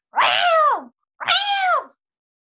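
Two drawn-out cat meows, each close and loud, separated by a short pause, with nothing else audible around them.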